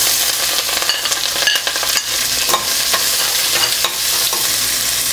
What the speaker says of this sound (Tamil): நறுக்கி வச்ச வெங்காயத்தையும் கருவேப்பிலையும் போட்டுடலாம்.